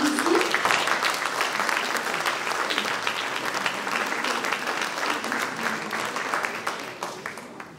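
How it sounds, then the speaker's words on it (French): Warm audience applause at an honorary citizen ceremony in Ondres, France, as Simon Labouyerie is called forward; dense, sustained clapping from a sizable room, fading slightly toward the end. "Je vous demande d'applaudir Simon"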